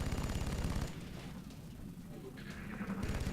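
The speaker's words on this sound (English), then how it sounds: "he doesn't have a very good shot at that guy, so we're just going to suppress him" Suppressing fire from a squad unit in the video game XCOM, a loud sustained automatic gunfire burst that stops abruptly, followed by quieter battle ambience and a brief second rattle near the end.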